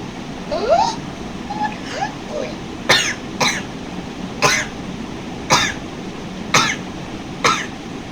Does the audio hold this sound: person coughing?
yes